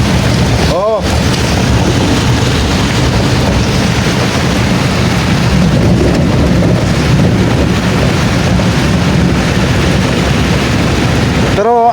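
Heavy rain pours steadily in a dense, continuous wash, with low rumbles suggesting thunder, recorded from a vehicle on a highway after leaving farmland in a thick downpour and fog; the roar stays loud and unbroken throughout.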